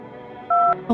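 In the video game No I'm Not a Human, a telephone dials a number: a steady low tone is followed by a single clear keypad beep and the start of a second, brief and fairly loud.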